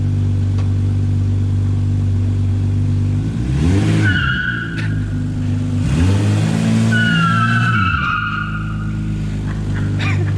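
A Toyota MR2 with a swapped 1MZ-FE V6 idles loudly, then revs hard twice in rising, falling surges while trying to spin its wheels. Short tyre squeals chirp during the revs.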